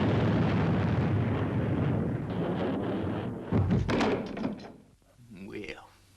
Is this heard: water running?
no